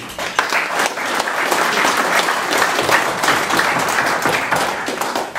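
Audience applause at a German biker club talk event, steady dense clapping from a crowd throughout, loud and continuous without a break.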